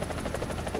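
Helicopter rotor and engine in War Thunder, a steady loud thrumming drone with rhythmic rotor pulsing throughout a brief moment, no talk.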